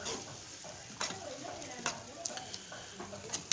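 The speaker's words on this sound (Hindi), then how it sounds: "दस मिनट तक हमने हल्की आंच पे इसे इसी तरह भूनना है।" Chicken keema frying in masala over low heat: a soft, steady sizzle with occasional spoon scrapes and stirring clicks, quiet and close.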